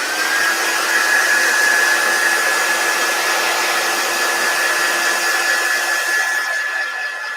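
A heat tool dries paste on a handmade discbound index-card journal, blowing a loud, steady, close-up whir with a constant high whine that runs unbroken and eases slightly at the end.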